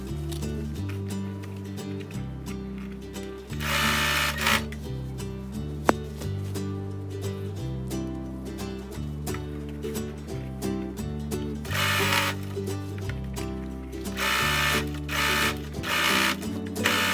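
A sewing machine runs stitching fabric for a portable baby crib nest, in bursts of rapid mechanical chatter that stop and restart several times, close and clear with no talk.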